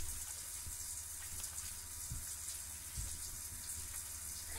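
Steady hiss of a running shower in The Sims 4, a constant broadband water spray with faint low thumps underneath, continuous and fairly quiet with no voices.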